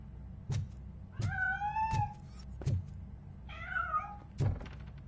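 Several short cat meows from a cat in the video game Robocop Rogue City, three or four separate calls spaced over a few seconds, each with a soft thump or knock near it, fairly quiet against a low background hum.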